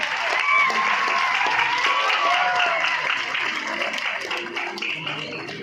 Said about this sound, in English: The clapping should not stop. Let's give them a round of applause.